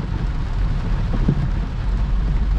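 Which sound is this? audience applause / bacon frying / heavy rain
heavy rain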